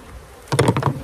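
Honey bees buzz loudly and close in a sudden burst as a brush sweeps drones off a hive frame, with no talk.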